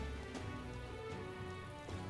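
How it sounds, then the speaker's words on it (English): Steady rain falls in the video game Metaphor: ReFantazio, a dense, even hiss of drops on surfaces that holds at constant loudness throughout with no voices. "it's raining"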